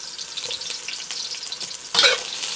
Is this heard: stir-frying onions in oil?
yes